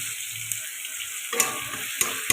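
Grated ginger goes into a pan of simmering bhetki fish curry with potato and melted tomato, giving a steady soft sizzle with a few sharp clinks and stirring scrapes near the end.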